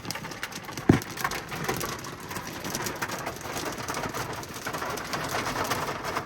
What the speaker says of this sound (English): Inside, it's just hailing and raining like crazy.